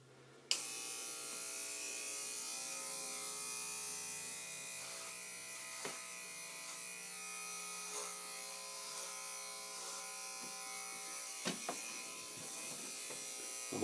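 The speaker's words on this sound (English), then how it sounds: "But you want to make sure your hair is clean or it will clog your clippers." Electric hair clippers cutting someone's own hair: a steady, close, high-pitched motor buzz switches on and runs continuously, with faint changes as the blades pass through hair and a few small knocks, no voices.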